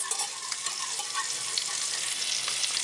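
Butter and flour roux whisked in a pan for a béchamel sauce, cooking with a steady broadband sizzle and soft repeated scraping strokes throughout, close and alone with no voices.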